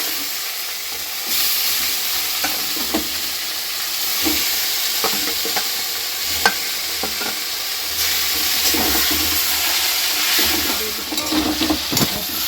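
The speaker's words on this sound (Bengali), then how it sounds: "চিকেনটা তুলে দিচ্ছি কড়াই।" Chicken frying in a kadai with onion and tomato paste, a loud continuous sizzle broken by repeated clattering stirs of a spatula against the metal, close up and with no talk.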